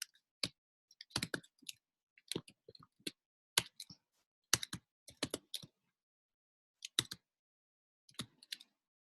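Sparse bursts of keystrokes on a computer keyboard come in quick irregular clusters with short pauses between them. The clicks are close and crisp in an otherwise quiet room, with no talking.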